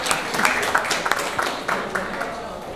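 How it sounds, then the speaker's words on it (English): A breakfast audience of seniors claps in a light, scattered round of applause, several bursts close together under a background murmur. "Give yourselves a round of applause."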